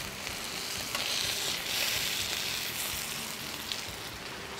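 Fish sizzling in a hot pan alongside rice, sausage, onions and peppers, a steady soft crackling hiss with small swells, moderately faint and without talk.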